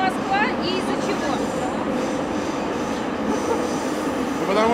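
An EZh3 metro train runs loudly with a dense rumbling roar and squealing wheels. The noise stays steady and close throughout, and a voice is faintly audible beneath it.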